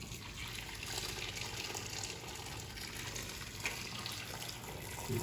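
Steady rushing of hot water being poured into a cooking pot, a continuous liquid gush with faint clinks, close and moderately quiet, no talking.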